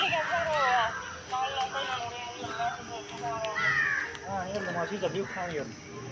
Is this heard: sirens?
no